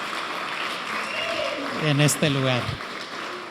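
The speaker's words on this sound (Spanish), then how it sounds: "reciban el aplauso de la gente que está aquí reunida presencialmente" Audience applause from a gathered crowd at an event in Monterrey, Nuevo León: a steady wash of clapping throughout, with someone speaking over it briefly in the middle.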